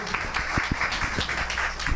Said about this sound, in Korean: 자, 큰 박수로 부탁드릴게요.